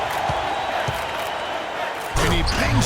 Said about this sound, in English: And he bangs it home with one hand